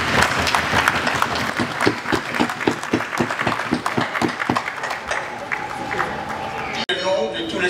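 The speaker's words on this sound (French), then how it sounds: "Je vous demande donc, chers collègues, d'acclamer" Sustained applause fills a Senate chamber in the DR Congo as senators clap for the dean, dense and steady clapping with crowd murmur, fading somewhat toward the end before a brief break.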